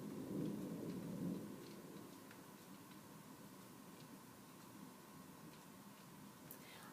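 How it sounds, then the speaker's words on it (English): Thunder rumbles low in the distance during a rainstorm, a soft roll early on fading into steady faint rain hiss with scattered light ticks. "I don't know if you can hear the thunder and lightning in the background,"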